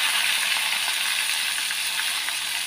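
Seasoned white tofu frying in hot oil, a steady bright close sizzle that holds at even loudness throughout, with no voices.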